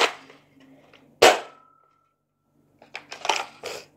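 A Nerf Rival Apollo XV-700 blaster's jam lock is released, giving a sharp plastic clack followed by a brief ringing tone, with softer mechanical clicks and rattles of the blaster being handled close by.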